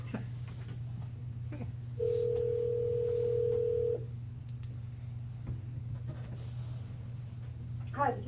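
A single steady telephone tone sounds for about two seconds over a speakerphone in a meeting room, heard against a constant low hum and faint room noise.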